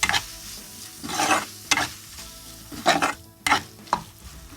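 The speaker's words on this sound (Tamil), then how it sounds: "இது வந்து அப்படியே இன்னும் கொஞ்சம் வதக்கிக்கலாம்." Masala for crab gravy being sautéed in a pan on a low flame, with repeated loud spoon scrapes and stirs over a crackling sizzle.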